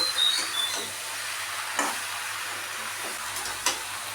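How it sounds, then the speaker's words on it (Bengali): A spatula stirs Malabar spinach into a chorchori-style vegetable curry in a pan, giving a soft, steady sizzle with a few scraping strokes and light clicks, close by and without talk. "আমি খুন্তি দিয়ে তরকারিটির সবজিটার সঙ্গে মিশিয়ে দেব"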